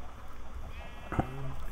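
A sheep in the Minecraft video game gives a single short bleat near the end, heard close against faint background noise, with a voice speaking lightly around it.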